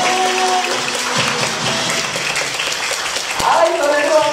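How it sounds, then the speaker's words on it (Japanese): Crowd at a Kumamon stage show in Kumamon Square applauds, a steady wash of clapping over amplified music, with a host's voice heard over it. "盛大な拍手をお迎えください。"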